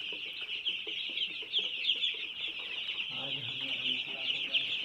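Three-day-old broiler chicks chirp constantly in a dense, high-pitched chorus, many birds peeping over one another at close range, with some faint lower background noise joining in the second half.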